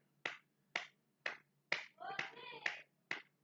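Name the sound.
congregation applauding in church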